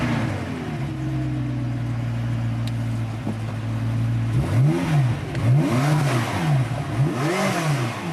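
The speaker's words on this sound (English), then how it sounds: "by tuning the exhaust system to get the right kind of mixing between the different cylinders, that gives us the Metallica sound" A supercar engine revs through an exhaust tuned for cylinder mixing, first holding a steady idle drone, then rising and falling in several sharp, loud revving sweeps with no voices.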